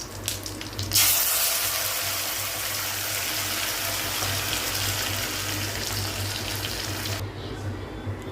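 Ground masala paste of onion, tomato, cumin and fennel splashes into a simmering capsicum gravy with a wet, gushing sizzle that swells after the first second and stays fairly loud and steady before dropping off near the end.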